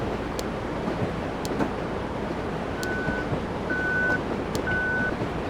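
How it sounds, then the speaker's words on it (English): Train cab alerter in Train Simulator 2015, three short, steady electronic beeps spaced about a second apart over a constant rumbling cab and track noise. "The red flashing light in the cab was part of the alerter, as well as the beeps which you just heard."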